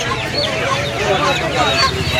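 Many chickens cluck and squawk together nearby at the Uluberia poultry market in the rainy season, a busy, crowded setting with murmuring voices mixed into the din.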